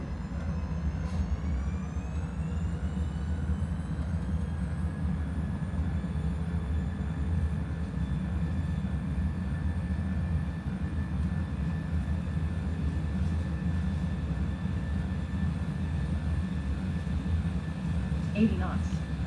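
Cargo airliner engines on a Raya Airways flight hold a steady, heavy drone with a rising whine as the throttles come up for takeoff, heard from inside the cockpit under pilot talk.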